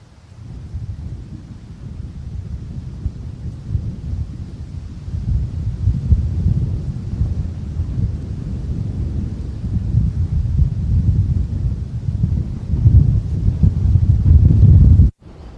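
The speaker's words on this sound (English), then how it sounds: "Gale down here." Strong gale buffeting the microphone on an open golf course at Kedleston Park as a storm moves in, a steady low roaring rush that swells louder toward the end before cutting off abruptly.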